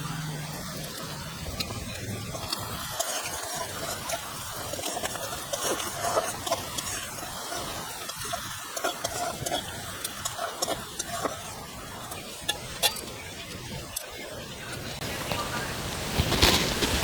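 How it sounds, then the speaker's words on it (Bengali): Onions stirred and fried on low heat in a pan: a soft, low-level sizzle runs throughout with intermittent scraping stirs, fairly faint against background noise. "পেঁয়াজটা দিয়ে আমি একটু এদিক ওদিক ভালো করে একটু নাড়িয়ে নেব।"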